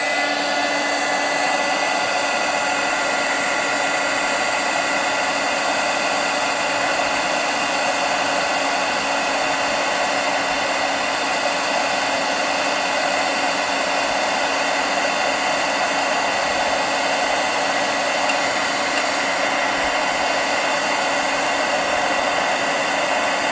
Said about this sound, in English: I just blow heat directly onto it and it shrinks.